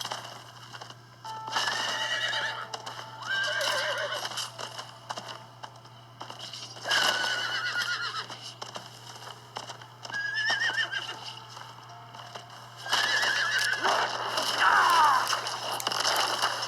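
Video game horse ridden through open terrain, with repeated neighs and whinnies over steady clip-clop hoofbeats and a low constant hum, recurring in several bursts across the ride.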